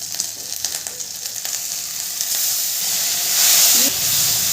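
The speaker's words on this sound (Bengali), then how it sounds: "মশলাটাকে ভালো করে কষিয়ে নেব।" Spice paste for Bengali dhokar dalna sizzling and frying in a pan, a steady close hiss that swells slightly toward the end, with no talk over it.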